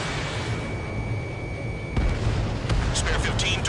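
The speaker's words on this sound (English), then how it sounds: "Missile away." A missile launch and explosion in the Ace Combat 7 video game, with a dense roar of jet and weapon noise, a sudden thump partway through and sharp bursts toward the end, all fairly loud.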